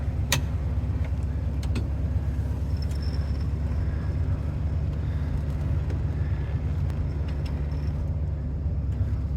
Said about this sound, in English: Here's the convertible top coming down.